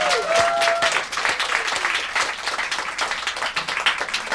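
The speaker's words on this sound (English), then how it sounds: "big round of applause for Oscar on the sound desk" Sustained audience applause at Green Note, a small London music venue, after a live folk performance, dense steady clapping with a short whistle at the start, tapering slightly toward the end.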